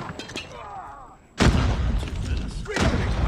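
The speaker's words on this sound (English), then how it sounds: "Someone threw a random grenade." A grenade blast in Call of Duty Mobile goes off suddenly: a loud, close boom with a broadband crash that rings on, a second thud following, over faint game chatter.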